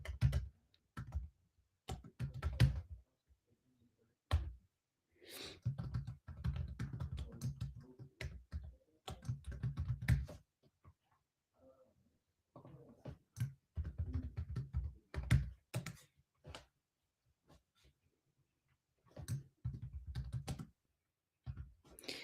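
Computer keyboard typing in irregular bursts of quick, close clicks and taps with short pauses between, fairly quiet overall.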